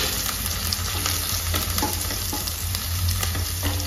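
Chopped ginger, green chilli and curry leaves sizzle loudly in hot oil for moong dal upma, a dense, continuous hiss and crackle heard close up without any voices.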